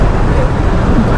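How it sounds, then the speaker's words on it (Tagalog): Dense road traffic from a motorcycle rider's position in a jam, a steady loud roar of engines and tyres that continues without a break. "Traffic yun."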